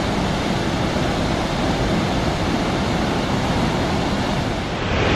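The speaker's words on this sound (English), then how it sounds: "I'm on the Cascade River, and man, this thing is really flowing." The Cascade River rushes and roars in a dense, steady wash of flowing water, loud and close, with no voices over it.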